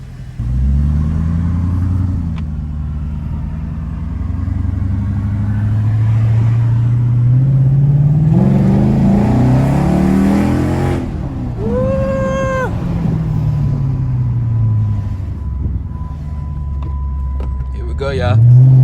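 A car accelerating in first gear through heavy traffic, a low engine drone rising in pitch as it revs up, dropping and climbing again, with road rumble throughout and a brief whine and horn-like tone midway.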